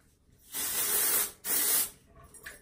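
A spray bottle mists hair in two bursts of hiss, one longer and one shorter, close to the mic, with a faint third puff at the end.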